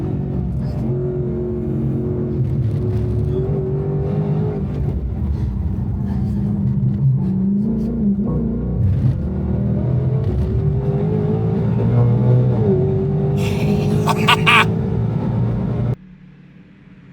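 A Ford Mustang GTD engine revs while driving, a loud rising and falling exhaust tone heard from inside or near the car, swelling through several gear pulls before cutting off abruptly near the end.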